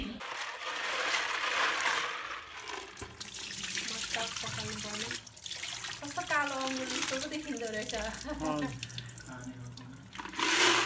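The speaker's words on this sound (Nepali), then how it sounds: "यो चाहिँ सङ्लो पानी नभएसम्म बनाउनु पखाल्नु पर्ने" Freshwater snails and clams are rinsed and stirred in water, with splashing, running water and rattling shells close by while someone talks over the washing.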